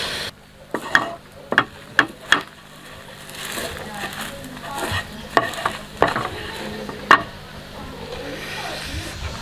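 Coca-Cola boiled down in a pan to a thick tar-like residue, with a utensil stirring and scraping it: a series of sharp clicks and scrapes over a faint low sizzle, close by, with no talk.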